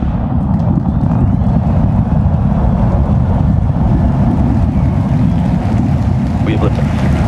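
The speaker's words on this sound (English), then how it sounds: "We have liftoff." A SpaceX Starship rocket liftoff, heard as a steady, loud, low rumbling roar with wind-like buffeting that fills the whole stretch without easing.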